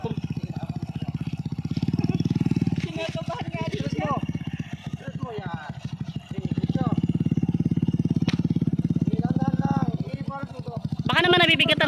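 A motorcycle engine idles and revs in a steady loud drone during a beginner's first riding practice, rising and dipping with throttle changes, with people talking over it throughout.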